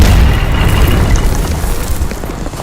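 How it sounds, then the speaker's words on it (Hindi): Israeli artillery shell explosions in Lebanon, a loud, deep rumbling blast that fills the moment and then slowly decays into a low, lingering roar. "इसके अलावा इजराइल की सेना ने तोप के गोले भी बरसाए।"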